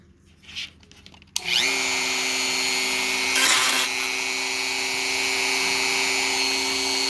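A Dremel 4300 rotary tool starts up after a short quiet moment and holds a steady high whine at about 15,000 RPM, loud and close, with a brief surge in the middle.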